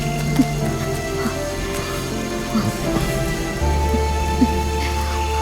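Rain falling outdoors during a scene in a Malayalam horror film, a steady patter of drops under a low sustained hum that lasts throughout.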